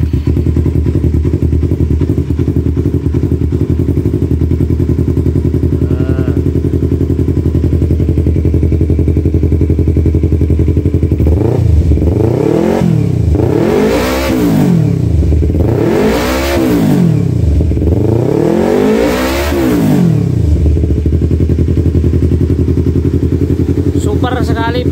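A loud Yamaha R25 first-generation motorcycle with a throaty aftermarket exhaust idles, then revs hard four times in quick succession, each blip rising and falling sharply.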